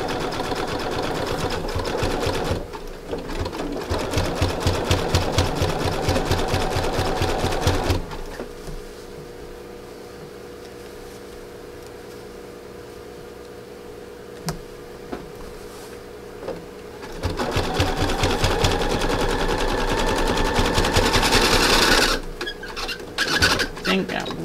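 A sewing machine stitches a fabric-covered rope container, running in loud rapid bursts at the start and again near the end, with a quieter stretch of low hum and faint handling between them.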